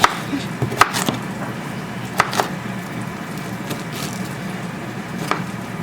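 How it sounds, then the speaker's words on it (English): A knife chopping cabbage on a cutting board gives scattered, crisp wooden knocks. They come singly and in small pairs at irregular intervals, close up over a low steady background hum, and no one speaks. "she needs a proper knife to really get in here and chop up cabbage"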